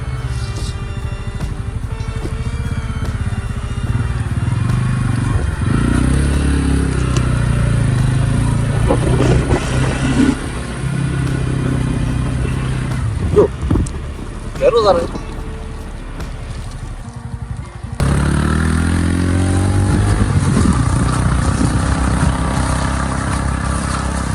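A motorcycle in first gear climbs a steep off-road hill at Varattumedu near Vagamon in Idukki, its engine droning loudly and steadily with brief dips as the throttle changes, while someone talks over it.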